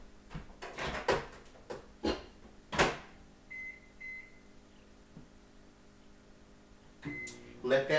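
Thumps and clunks like a microwave door shutting, followed by a couple of short electronic beeps and another clunk, with a voice talking through it.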